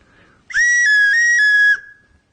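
A handmade clay whistle gives one loud, shrill blow of about a second, its pitch wavering slightly before cutting off abruptly, with faint room noise around it.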